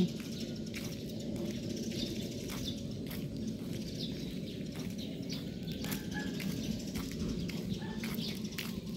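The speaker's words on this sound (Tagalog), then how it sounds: "Wala ka maririnig kundi huni ng ibon." Faint, scattered bird chirps over a steady low background hum, quiet and distant with occasional brief tweets.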